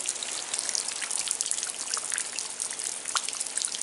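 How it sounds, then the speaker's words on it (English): Rain dripping and trickling on a rainy day in Pennsylvania, a steady soft patter with scattered sharper drops, fairly faint and without voices. "Another rainy day in Pennsylvania."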